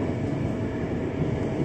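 KRL Commuter Line electric train running toward Cikini station in Jakarta, a loud steady interior rumble and roar heard from on board, with no voices.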